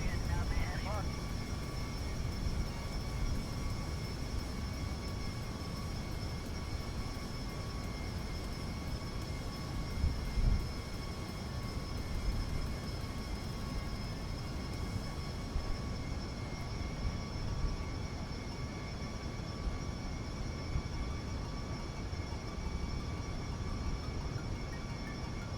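A plane in Kerbal Space Program, modded career mode, cruises at altitude with a steady, continuous engine drone and a thin whine on top. The sound holds level and unbroken throughout.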